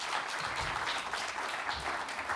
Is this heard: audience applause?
yes